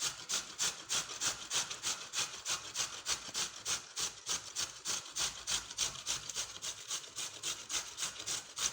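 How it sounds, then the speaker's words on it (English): Carrots rubbed against a grater in quick, even back-and-forth strokes, a dry rasping scrape repeating steadily about three times a second, close and fairly soft with no voices. "This is how I grate my carrots."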